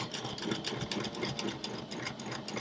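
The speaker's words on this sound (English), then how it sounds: "I'm going to sew over the top of it, again following the foot along the edge of my fabric" A sewing machine stitches over a fabric seam along the edge of a zipper pouch, a rapid even mechanical chatter running steadily at close range with no talking.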